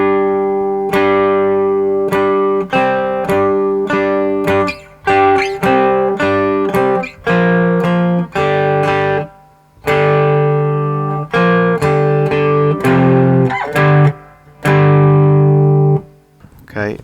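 A cigar box guitar plays a riff with a gritty, distorted tone, in short choppy bursts separated by brief pauses, loud and close.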